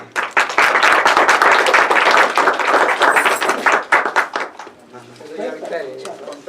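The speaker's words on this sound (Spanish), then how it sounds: "nuevamente su aplauso de bienvenida" An audience at a conference lecture applauds to welcome a speaker, with dense clapping for about four seconds before it thins and fades. A voice follows.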